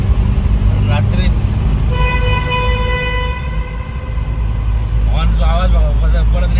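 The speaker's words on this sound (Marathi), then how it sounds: "हॉर्नचा आवाज बघा परत रिटर्न आहे का" A car horn sounds repeatedly inside a highway tunnel on the Mumbai–Goa highway, its sustained tones ringing and reverberating over a constant loud tunnel road roar, with people talking briefly around it.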